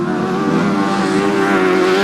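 Grasstrack racing motorcycles, including an 850cc Yamaha, roaring loudly and steadily with a sustained engine drone close by, no voices over it.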